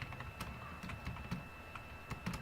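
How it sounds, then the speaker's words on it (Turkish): Quiet, irregular keystroke clicks from a computer keyboard during a Minecraft gaming session, a dozen or so taps spread unevenly over a faint background hiss, with no talking. "Lan klavye sesi."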